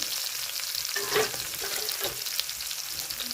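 Garlic and green chillies frying on a hot iron griddle, a close, even sizzle with small popping bursts and light stirring, no speech.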